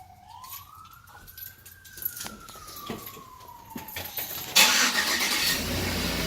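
A 2007 Chevrolet Avalanche starter whines up in pitch and settles, then the engine catches and runs with a loud, steady roar.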